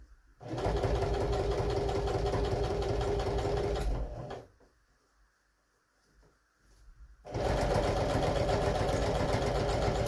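A sewing machine stitches a mock French seam in two loud, steady runs of rapid mechanical whirring, separated by a pause of a few seconds.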